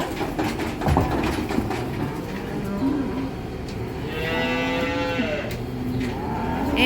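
Heifers being moved on a farm low and moo in long, overlapping calls amid a busy, rumbling outdoor background, several animals voicing at once from nearby.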